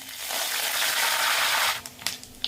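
Curry leaves hit hot oil while a tempering is made for chivda, giving a sudden loud hissing sizzle that lasts under two seconds and then breaks into a few sharp crackles.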